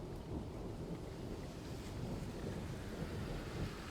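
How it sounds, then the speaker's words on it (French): Light rain patters steadily with a soft, broadband hiss, fairly faint and unbroken throughout. "Il pleut un petit peu d'un coup."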